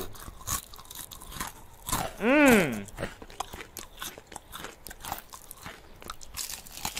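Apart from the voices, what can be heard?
biting into crunchy Korean fried chicken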